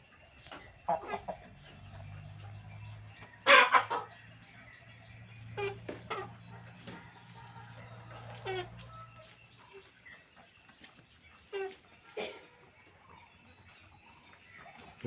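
Chickens pecking at dog food and clucking in scattered, soft bursts, with one louder squawk early on, over a low steady background hum.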